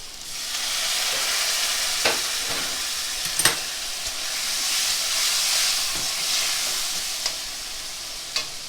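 Spices and chili powder frying with a splash of hot water in a pan for a chana curry, a steady close sizzle and hiss with occasional stirring scrapes, no voices.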